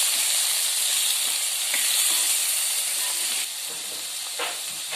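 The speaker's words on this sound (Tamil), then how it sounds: "இப்போ நம்ம கட் பண்ணி வச்சிருக்க கத்திரிக்காயை இதில் போட்டுடலாம். போட்டுட்டு வதக்கிடுங்க." Cut brinjal pieces sizzle steadily in a hot pan while being sautéed for a dried-anchovy curry, a loud continuous frying hiss with a few faint stirring clicks and no talk.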